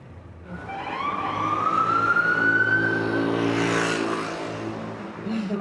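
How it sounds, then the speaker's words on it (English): Ambulance siren on a street in Nigeria, a loud rising wail that sweeps up and holds, close by and passing over engine and traffic noise, with no voices. "Coronavirus ambulance."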